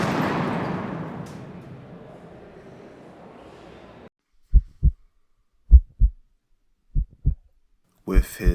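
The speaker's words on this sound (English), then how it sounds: "With his heart pounding" Pounding heartbeat sound effect with paired, deep thumps repeated in a slow, steady rhythm, loud and isolated after a fading rumble, with a voice starting at the end.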